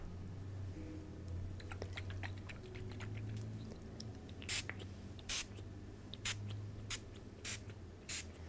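Clary Sage spray spritzed from a bottle during a quiet reiki session, a series of short, sharp misting bursts near the end following soft handling noises.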